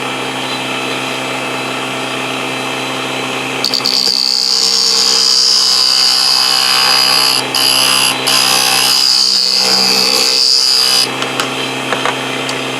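A Proxxon DB 250 microlathe turns wooden nutcracker legs, a steady motor hum joined midway by a high, piercing cutting whine that drops out briefly twice and then returns.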